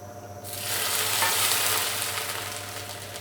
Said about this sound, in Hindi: अब इस सारे मिक्सचर को साग के अंदर डाल के उसे तड़का लगा लेंगे।